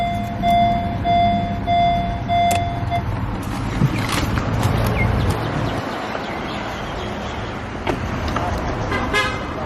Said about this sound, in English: We'll turn her off.